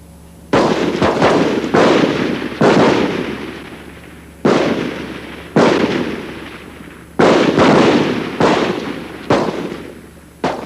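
Rifle shots crack at a Royal Australian Navy shooting range, about a dozen loud reports in irregular bursts, each followed by a rolling echo that decays before the next volley.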